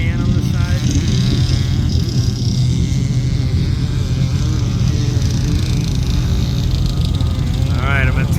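Brenthel sandcar engine accelerating hard across the dunes at Glamis on New Year's Eve, a loud, constant deep roar dominating throughout, with people talking faintly beneath it.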